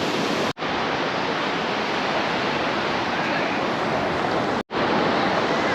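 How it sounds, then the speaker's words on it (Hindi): Sea waves at Gopalpur beach at sunset make a steady, loud wash of surf that fills the whole stretch, broken by two very brief dropouts. "और ये है लहरें"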